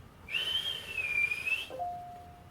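Someone whistles a long, high, wavering note, then switches to a lower, steady whistled tone that holds to the end.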